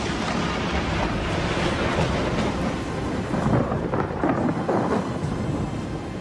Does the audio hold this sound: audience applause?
no